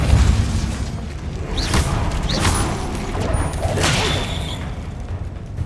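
Repeated Confringo fire-blast spell explosions in Hogwarts Legacy, several bursts with whooshes and crashing booms at moderate distance, one after another with no voices.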